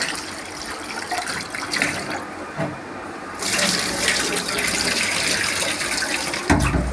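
Rice is washed in water in a home kitchen: a continuous splashing, swishing sound up close, growing louder partway through, with no talking.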